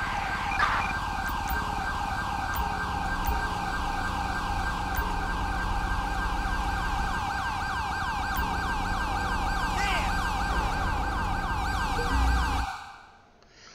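An ambulance siren in the video game Grand Theft Auto V wails steadily and loudly in a continuous cycling tone, then cuts off abruptly near the end.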